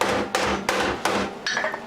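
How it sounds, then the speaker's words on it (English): Four sharp metallic hammer blows ring out at a steady pace, close and distinct, hammering down a sheet steel flange on a Talbot camper bonnet's internal structure. "Hammer back down the flange then."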